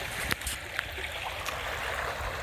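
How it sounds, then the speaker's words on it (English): A small stream flows beside a footbridge on the Appalachian Trail, a soft, steady trickle and wash of water heard close by with a few faint knocks and no talking. "then there's just this beautiful little stream"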